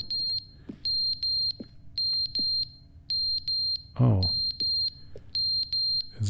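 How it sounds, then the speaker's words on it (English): A smoke alarm in The Stanley Parable: Ultra Deluxe gives sharp, piercing beeps in quick pairs and triplets, repeating steadily and loudly, with a brief voiced exclamation midway. "Is it a smoke alarm?"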